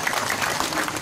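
Dense, continuous clapping from a crowd at an Islamic religious lecture, filling the whole moment at an even level with no voices over it.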